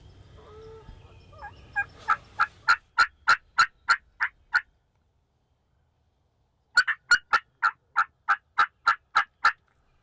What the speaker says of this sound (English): They're gobbling at everything.